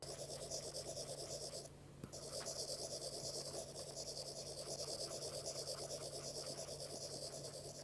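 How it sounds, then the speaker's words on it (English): Steady, close scratching of a simulated pen-on-paper sound from a Samsung Galaxy Tab S8 Ultra stylus, with one brief pause early on. "Samsung tries to simulate the sound of a pencil or pen writing on paper"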